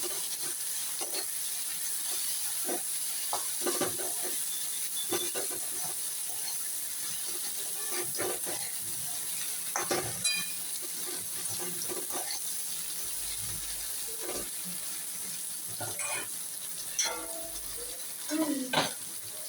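Okra fries in a pan with a soft, continuous sizzle and hiss, broken by repeated scraping stirs and clinks of a spoon, while a voice occasionally talks over the cooking.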